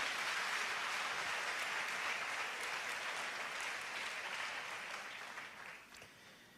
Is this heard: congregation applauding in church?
yes